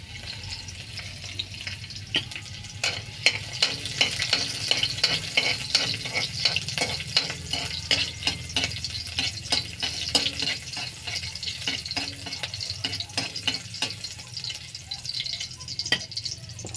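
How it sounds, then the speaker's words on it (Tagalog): Ingredients sauté for a young coconut (buko) vegetable dish with dulong. A steady sizzle runs beneath quick, regular scraping and tapping of a utensil stirring in the pan, moderately loud, with no talking. "Gisa muna natin."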